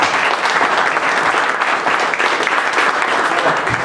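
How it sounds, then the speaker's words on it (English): An audience at a tech meetup claps in a dense, steady burst of applause, loud and sustained throughout with no talking over it. "And yeah, clap."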